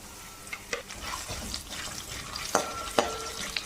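Lentils, black sesame seeds and curry leaves fry in hot oil for aval vilayichathu, giving a steady crackling sizzle with a few sharper pops near the end, close and moderately quiet with no talk.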